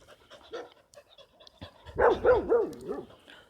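A dog pants in quick, rhythmic breaths up close, with a few soft whimpering sounds in between.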